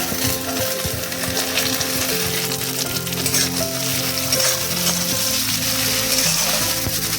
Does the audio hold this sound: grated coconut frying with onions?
yes